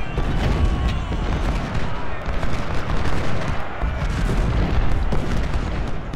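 Booming cannon and artillery fire from a Civil War battle at Stones River in the strategy game Ultimate General: Civil War, dense and continuous with overlapping blasts and rumbling, mixed with a low background din.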